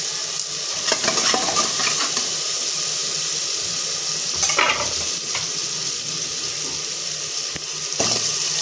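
Val beans and potatoes fry in a pan with a steady, close hiss, broken by a few sharper stirring scrapes and clinks, and no one talks.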